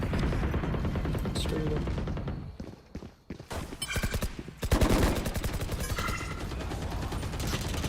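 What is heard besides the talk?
gunfire from the video game Valorant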